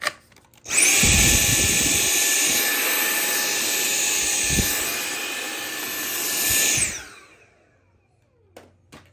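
A power drill whirs steadily for several seconds at close range, drilling a pilot hole in a Razor E200/E300 electric scooter swing arm, rising slightly before spinning down, followed by a few faint clicks.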